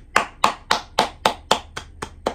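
Nine slow, evenly spaced hand claps from a single person, close and distinct, each a sharp crack with a brief decay and quiet between them.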